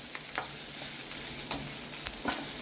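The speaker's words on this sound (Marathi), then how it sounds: "कांदा परतून घेते मी" Chopped onion frying in oil in a pan for a Mumbai Saraswat-style mutton curry, a steady close sizzle with occasional stirring clicks and crackles, no voices.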